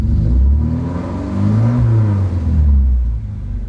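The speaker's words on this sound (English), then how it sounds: "The car is going to be yelling at us the whole time" A Nissan 240 engine with ECU launch control mods held at a loud, near, steady rev against the limiter, rumbling throughout with slight waver, no talk.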